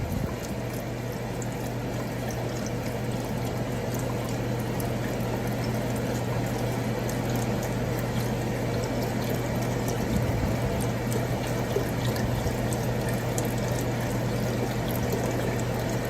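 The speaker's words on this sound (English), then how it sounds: "I'm going to go ahead and add my chicken broth and stir that in" Chicken broth is poured into a roux for New Orleans style gumbo and stirred in, giving a steady close rushing, bubbling liquid wash that holds evenly throughout under a low hum.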